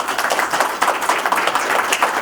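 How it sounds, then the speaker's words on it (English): Audience applause at a 2022 Board of Education candidates forum: dense, continuous clapping from many hands throughout, steady and moderately loud with no speech over it. "Can you give Josh a round of applause?"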